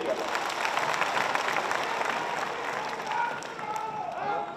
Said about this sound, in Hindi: अगर आप मेरे से सहमत हैं तो जोरदार ताली बजा दीजिएगा